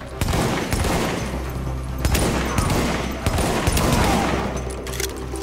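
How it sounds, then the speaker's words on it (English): A marksman rifle in The Division fires repeated sharp shots at close range, loud and evenly spaced over a constant low rumble of game ambience. "Really loving this marksman rifle."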